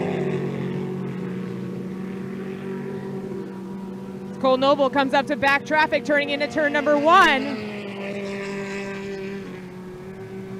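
A racing powerboat's engine, boat number 444 at a spring classic boat race, pops and crackles in a rapid burst of uneven pulses over a steady high-revving drone, while a commentator talks throughout.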